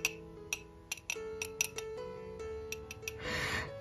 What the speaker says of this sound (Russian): Стекло, правда же? Звучит так.